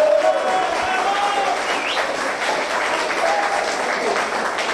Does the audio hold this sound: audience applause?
yes